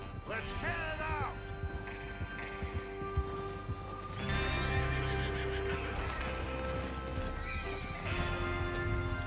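Horses neigh and whinny with hooves clip-clopping in Red Dead Redemption 2, a couple of loud whinnies near the start and more hoofbeats and movement later, with voices talking throughout.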